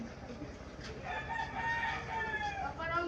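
A rooster crows in a drawn-out call amid a noisy background, with clucking fowl and faint voices nearby.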